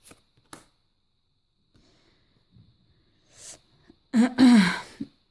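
Tarot cards are shuffled and laid out on a table, with a few faint taps and slides followed by a loud, close riffling burst near the end.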